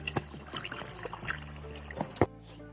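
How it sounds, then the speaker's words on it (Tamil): Hot herbal water trickles and drips through a cotton cloth strainer in uneven bursts, with a few splashy spurts and soft clinks, close up and fairly quiet. "இந்த மாதிரி ஒரு காட்டன் துணி போட்டு வடிகட்டி எடுத்துருங்க"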